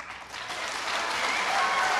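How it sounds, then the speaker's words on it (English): Audience applause at a congressional debate, a steady broad clapping that swells slightly and holds loud for two seconds with no voices over it. "Let's hold the applause."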